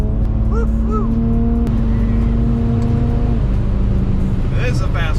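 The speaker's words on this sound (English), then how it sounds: "A little wheel spin and it took right off." A tuned and modified rear-wheel-drive BMW 335i twin turbo of about 430 hp pulls hard with brief wheel spin, its engine note climbing through gears inside the cabin while whoops and excited voices ride over the steady roar.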